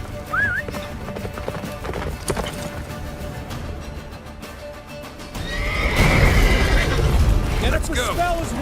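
A horse in The Witcher 3 gallops hard through a blizzard toward a fortress, with rapid hoofbeats running under game dialogue. A loud, close whinny breaks out near the end.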